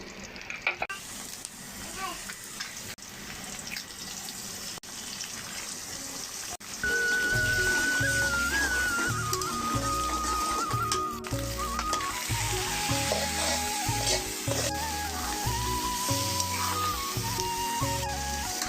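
An egg fries in a hot pan with a steady, fairly loud crackling sizzle and occasional scrapes; about a third of the way in, a louder melodic tone pattern joins and continues over the frying to the end.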